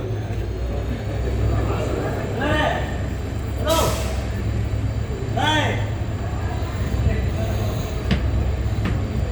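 A Mayiladuthurai to Karaikudi passenger train pulling away from Aranthangi, a steady low rumble of wheels and engine throughout, with rising whistling and screeching tones sweeping through at intervals, with people talking nearby.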